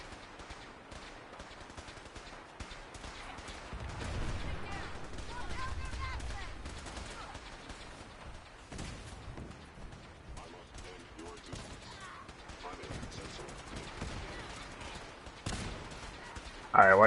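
Players exchanging gunfire in a PS4 video game, with overlapping bursts of rifle and machine-gun fire at a moderate distance, a mix of sustained volleys and sharper single shots.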